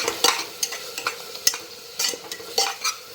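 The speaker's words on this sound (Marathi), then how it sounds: "आपण त्यामध्ये आता टोमॅटोची प्युरी टाकून घेऊया त्यामध्ये चांगली मिक्स करून घ्यायची आहे" Spoon stirring tomato puree into Maharashtrian masala rice in a pan, close irregular scraping and clinks over a faint sizzle, several quick strokes with no talking.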